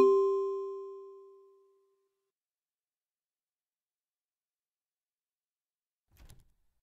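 In the video game Baldi's Basics, a clear electronic chime rings and fades over about two seconds, followed after a long silence by a single short, dull door thud.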